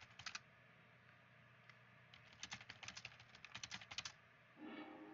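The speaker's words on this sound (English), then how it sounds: "I'm sorry for the typing noises" Computer keyboard typing heard faintly in the background, a short burst, then a pause, then a fast run of soft, irregular key clicks, with a dull rustle at the end.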